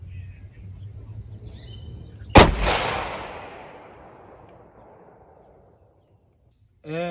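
A single loud rifle shot cracks sharply outdoors while a first focal plane rifle scope is tested, then a long echoing rumble fades over several seconds, with birds faintly audible before the shot.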